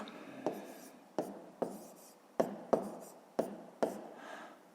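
Pen strokes on paper while working through a decimal subtraction problem for fifth-grade math: seven separate scratchy scribbles with short pauses between them, close and fairly quiet, with no talking.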